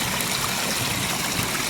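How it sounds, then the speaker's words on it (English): Water steadily rushes and splashes down a pondless waterfall, a loud, continuous outdoor stream with no voices. "Water splashing down and away."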